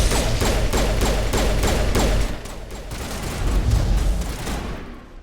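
Dense gunfire and explosions in a Mass Effect firefight, with rapid repeated shots and booms coming loud and close without a break, and the barrage easing briefly partway through.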